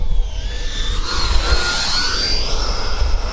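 An E-flite F-16 Viper 80mm electric ducted-fan RC jet comes in to land with some thrust applied, its loud, rushing whine rising and shifting in pitch as it passes close by.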